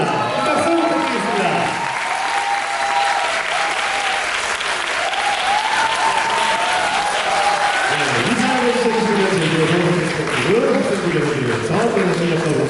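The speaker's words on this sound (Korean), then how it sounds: "여러분 큰 박수 부탁드리겠습니다" Audience applause at a tap dance festival audition award ceremony, sustained loud clapping from a crowd filling the whole stretch, with a presenter's voice over it.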